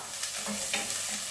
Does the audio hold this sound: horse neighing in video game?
no